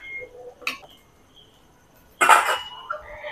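A lid is set onto a kadai of raw mango pieces boiling in a little water, making two short, sharp metallic clanks about a second and a half apart, with quiet kitchen noise in between.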